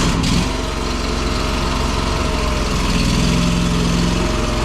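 A Chinese mini skid steer's engine runs steadily at low throttle, a loud, close, even idle-like drone holding for several seconds with no talk.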